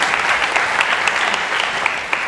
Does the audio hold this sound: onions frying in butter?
no